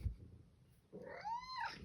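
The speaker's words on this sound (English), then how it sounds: "I think there's another cat crying at the door." A single cat gives one drawn-out meow, rising then falling, faint and somewhat distant, after a short quiet stretch.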